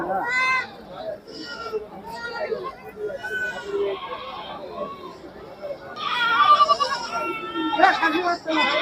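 Goats bleat repeatedly at a goat and sheep market in Sirajganj, with mother goats among them; loud, close bleats come in bursts over a busy crowd with people talking.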